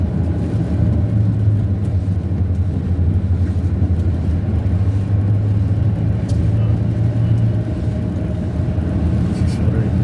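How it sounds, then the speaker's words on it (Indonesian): Vehicle traffic on an alternative road through a forest in the early evening after rain, with motorbikes and cars: a steady low engine rumble and whir of passing vehicles that holds throughout. "Kendaraan lewat, teman-teman,"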